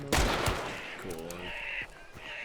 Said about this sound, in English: We shoot that immolator with fire bullets.